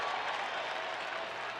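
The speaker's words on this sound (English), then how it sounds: "sarcastic applause raining down" A baseball stadium crowd gives sarcastic applause, heard as steady, distant clapping that washes evenly through the whole short stretch.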